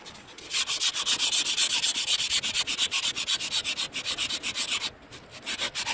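Someone scrapes a rusty high spot off a snow plow that was left outside, working toward a flat surface. A loud, close, rhythmic rasping repeats in quick back-and-forth strokes and pauses briefly near the end.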